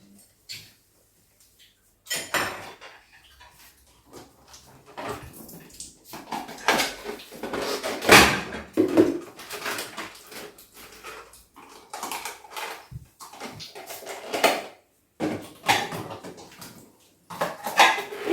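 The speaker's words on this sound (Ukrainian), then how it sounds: "Хто мені буде допомагати посудомийку розгружати?" Repeated clinks and clatters of plates and cutlery being unloaded from a dishwasher and set down, in irregular bursts, with quieter pauses between them.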